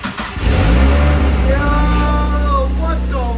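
A rebuilt Mazda Miata engine cranks over and catches, then settles into a loud, steady idle with rising engine tones, heard close by.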